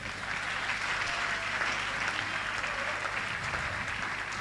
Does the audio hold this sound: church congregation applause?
yes